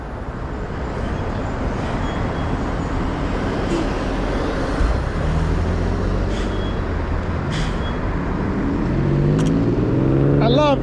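A Victrip R6 Pro electric bike rides on throttle alone, heard as a constant heavy wind rush and road roar that swells slightly toward the end, with no pedalling sounds.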